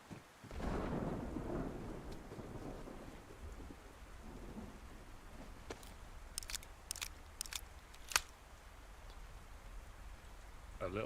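Rain and thunder in the game DayZ on the Chernarus coast, a low rumble of thunder early, then steady rainfall with scattered sharp clicks and drops, faint and distant throughout.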